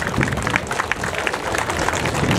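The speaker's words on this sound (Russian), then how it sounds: "Дамы и господа, ваши аплодисменты!" A crowd applauds fighters at a combat sports bout, dense sustained clapping mixed with crowd noise, loud and continuous from start to finish.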